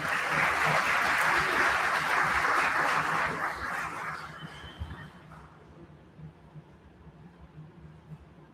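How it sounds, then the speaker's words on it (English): Applause from mourners at a memorial tribute, with a strong burst of clapping that gradually thins out and fades into quiet room tone. "Y'all can clap it up for that one."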